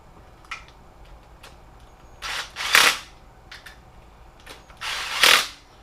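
A power tool runs up a hydraulic timing chain tensioner on the 3.7L V6 of a 2006 Jeep Grand Cherokee Laredo during an engine rebuild: two short, loud whirring bursts separated by a quieter pause, with faint clicks in the workshop.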